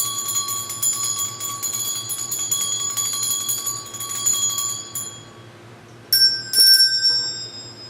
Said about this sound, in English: So I have these bells.